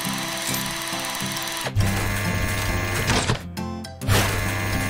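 Ratcheting mechanical clicks and whirring bursts from a tool mechanism removing a broken drill in a children's cartoon, repeated a few times over a busy musical background.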